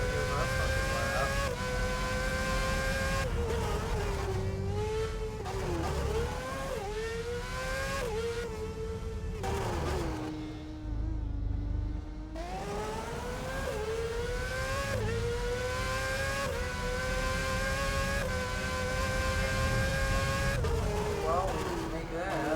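Racing engine of a car in the F1 06 video game, revving up and shifting through gears over a lap, pitch rising and dropping repeatedly, loud and continuous with a brief lull midway.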